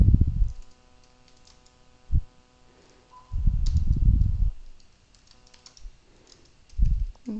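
Close computer keyboard typing comes in several short bursts of rapid clatter separated by quiet pauses, with a faint background hum.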